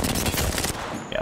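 Dense, sustained video game gunfire from a shooter match, a rapid continuous fusillade of shots that stays loud for about a second before dropping to a brief lull with a few faint high tones.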